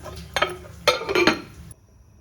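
A metal lid goes onto a cooking pot of food set to boil, with a few close clinks and clatters and a final settling clank before silence.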